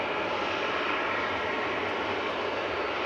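A Cessna Citation business jet at Manchester Airport, heard as a steady, broadband engine roar with no breaks. The sound is continuous and moderately loud, and no voices are heard.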